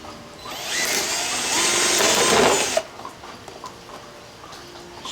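A hole saw cutting through a board propped on support blocks after a 1/8-inch pilot hole, a steady close whirring grind for about three seconds that stops abruptly, followed by quiet room noise and faint clicks.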